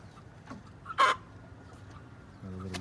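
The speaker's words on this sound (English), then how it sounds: "another little rooster" A young rooster around eleven weeks old, free-ranging with a backyard flock in a forest, gives a few short soft clucks followed by a brief louder squawky call, against faint outdoor background.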